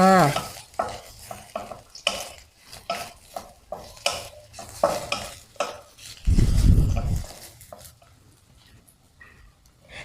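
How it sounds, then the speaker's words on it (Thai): Soaked, sliced shiitake mushrooms sizzle in hot vegetable oil in a wok, with repeated scraping and clinking of a utensil as they are stirred. A louder burst of frying hiss rises partway through. "เมื่อน้ำมันพืชร้อนนะคะ เดี๋ยวเราจะใส่ เห็ดหอมค่ะ เห็ดหอมที่แช่น้ำไว้นะคะ แล้วก็หั่นเป็นชิ้นแบบนี้เนาะใส่ลงไปผัดก่อนค่ะ"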